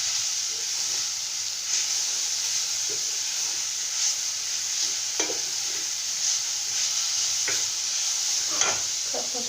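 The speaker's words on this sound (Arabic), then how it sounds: "هكا نخلطو المكونات كاملين" Ingredients for a flaky puff-pastry filling are stirred together in a bowl. A steady hiss runs under scattered scraping clicks and knocks at an irregular pace, with no talking.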